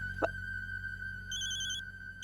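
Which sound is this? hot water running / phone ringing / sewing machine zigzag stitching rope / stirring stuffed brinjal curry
phone ringing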